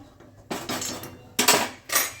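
Hot oil in a kadai being stirred with a metal utensil ahead of frying tilapia, giving a few sharp scraping clinks and sizzling bursts in three separate strokes, close and fairly loud.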